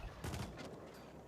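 A short, dense burst of homing-bullet gunfire from a sci-fi shooter, The Ascent, cracks out in a rapid flurry near the start and then trails into a low, steady rumble.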